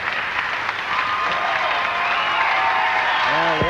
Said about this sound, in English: the acclamation of the crowd rightly going out to the winner, Carol Giannotti